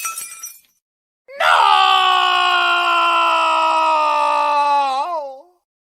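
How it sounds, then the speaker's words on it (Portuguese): A long, sustained anguished scream sound effect, loud and tonal with a wavering pitch that drops and bends at the end, following a brief burst of noise and a pause. "Esse é o nosso grito de desespero, Tony Dias."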